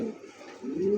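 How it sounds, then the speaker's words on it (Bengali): A pigeon in a home loft gives a short, close, low cooing call, brief and clear within about a second. "এই কবুতর 2 পেয়ার আছে আমার কাছে ভাই"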